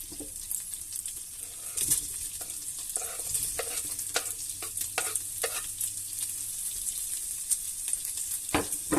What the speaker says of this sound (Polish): Boczek skwierczy na patery, łapie rumiany kolor.